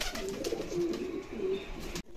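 Soft, low cooing of several pigeons close by, repeated throaty calls overlapping over a quiet background.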